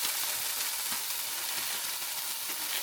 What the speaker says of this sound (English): we're just going to fry some onions first